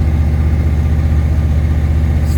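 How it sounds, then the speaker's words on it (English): A Mercedes engine with K-Jetronic fuel injection runs at raised revs just after starting, a steady, close, loud mechanical hum with a regular pulsing beat and no talk over it. "as you start the car, the revs raise up to 1500, maybe more, that depends of the specs."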